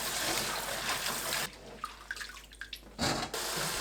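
Tap water running over garlic scapes in a sink, a loud steady rush that breaks off into scattered drips and small splashes, then surges back briefly near the end.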